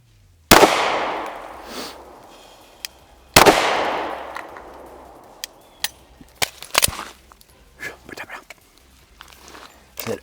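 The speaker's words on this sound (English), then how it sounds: "your slide didn't lock back on the empty mag, Jay." A Glock pistol fires two sharp, loud shots a few seconds apart, each ringing out with a decaying echo, followed by lighter clicks and handling clatter as the magazine runs empty.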